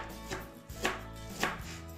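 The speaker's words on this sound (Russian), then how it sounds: "Для начала краснокочанную капусту шинкуем ножом" A knife shreds red cabbage on a cutting board in three crisp, evenly spaced chops, close and clear in a quiet kitchen.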